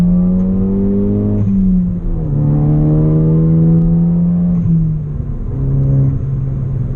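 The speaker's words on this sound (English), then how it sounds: "Just rolling on in second gear." A modified Ford Focus ST pulls in second gear, its engine note rising in pitch across two long sweeps with a brief dip between them, heard loud and close from inside the car with no one talking.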